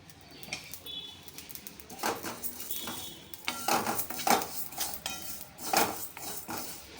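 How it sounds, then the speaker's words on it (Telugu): Fenugreek seeds are stirred in a pan over a low flame. Spoon scrapes and light metallic clinks come and go irregularly at close range, with quiet gaps between them. "కొన్ని ఒక టీ స్పూన్ అన్ని మెంతులు వేసి ఇప్పుడు వీటిని కొంచెం సిమ్లో పెట్టుకొని వేయించుకుంటానండి"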